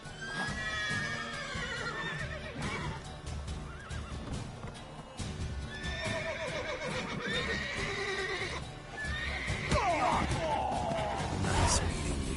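In the video game The Witcher 3, horses neigh and whinny loudly several times with clip-clopping hooves, mixed with game character voices talking throughout.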